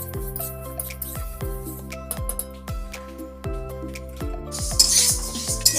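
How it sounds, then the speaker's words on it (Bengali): Moong dal being dry-roasted in a pan and stirred, a spoon scraping and clinking against the metal in a steady repeating rhythm, close and fairly quiet, with no talk. "নিয়ে একইভাবে মুগের ডালটাও একটু কাঠখোলায় নেড়ে নিতে হবে।"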